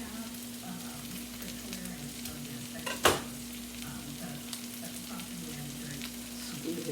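Aldi ground pork sausage frying in a pan: a steady soft sizzle with a low electrical hum underneath and one sharp clatter partway through, no voices.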